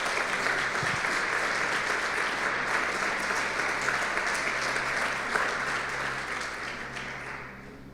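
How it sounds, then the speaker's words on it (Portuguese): Sustained applause from a church congregation filling the whole stretch, dense and steady, easing slightly toward the end. "Dá mais uma salva de palmas para o Senhor Jesus."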